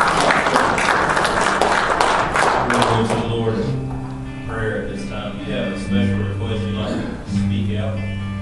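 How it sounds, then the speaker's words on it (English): A church congregation claps hands in praise during a worship service, a dense burst of applause loud at first and fading after a few seconds, while music and voices carry on beneath and after it. "Give Lord a hand clap of praise."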